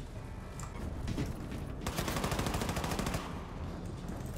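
Gunfire in the video game Wolfenstein II, rapid automatic bursts building up and peaking as a fast rattling volley in the middle before easing off, fairly faint overall.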